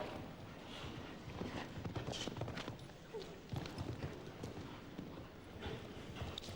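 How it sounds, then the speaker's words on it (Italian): Hooves of a horse clip-clop across an indoor arena during a World Cup show jumping round at 's-Hertogenbosch, muffled thuds under a constant crowd murmur, with commentary running over them. "Ce la sta mettendo tutta per dare un po' di brio al proprio cavallo Roger Ibost"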